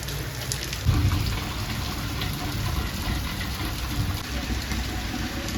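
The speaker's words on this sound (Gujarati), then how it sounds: "બહાર તો જો હજી વરસાદ ચાલુ છે" Steady rain falls outside, a constant hiss of drops with a low engine-like hum underneath.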